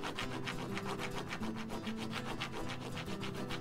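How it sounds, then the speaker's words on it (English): A quarter is scraped back and forth over vinyl plank flooring in quick, rhythmic strokes, a close and steady rasping rub with no talk. "Now we'll rub this quarter over the surface of the product to simulate the wear and tear that happens to flooring over time."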